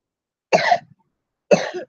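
Two short, sharp coughs about a second apart, close and clear, with silence around them.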